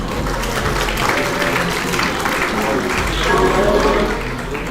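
Students applaud hackathon teams at a 24-hour hackathon valedictory ceremony, a continuous broadband patter of many hands with a low rumble beneath, rising slightly toward the end.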